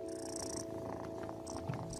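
Soft, steady purring of a cat in a video game runs continuously, with a constant low hum and background game tones throughout, no voices.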